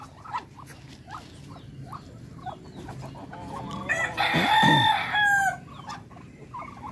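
A Darag rooster crows once in the middle, a clear, fairly loud drawn-out call with a rising and falling tail, while hens cluck softly and scattered chirps and rustling sound around it.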